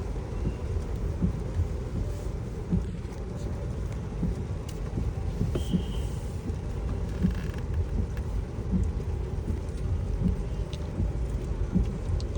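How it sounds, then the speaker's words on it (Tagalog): Heavy rain pours steadily inside a car during a Honda Civic RS e:HEV test drive, a dense, continuous roar of drops drumming on the body with low rumbles running underneath throughout. "Lakas ng ulan."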